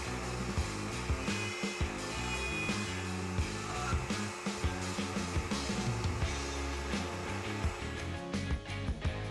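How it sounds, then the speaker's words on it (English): A Woodpeckers Multi-Router spins a cutter into a board, cutting box joints, with a steady high motor whine and repeated rough bursts of wood being chewed as the tables are moved slot to slot. "Start the router and maneuver the tables so that the stylus enters the first vertical slot."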